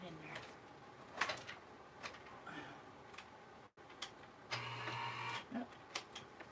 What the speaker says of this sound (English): So I have just enough space on either side of my die cutting machine.